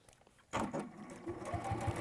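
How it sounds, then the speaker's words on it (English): A domestic sewing machine stitching fabric starts abruptly partway in and runs steadily with a fast mechanical whir and a faint rhythmic thump, close and fairly loud, with no voices. "Are you stitching? Yes, I am."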